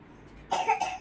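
A person at a home birthday gathering gives a short, sharp cough in two quick bursts, close and fairly loud against a quiet room.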